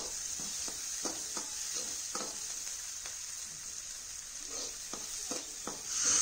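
Curry leaves sautéed in a pan for an egg curry, a steady sizzle broken by repeated rhythmic scraping strokes of a spoon, close up and without speech.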